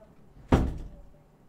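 A door is pushed shut indoors with a single short muffled thud and brief rattle, then quiet room tone.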